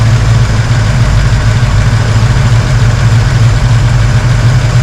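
Car engine idling steadily with the air conditioning running during radiator temperature testing, a loud, constant low rumble held close and unbroken throughout, with no talk.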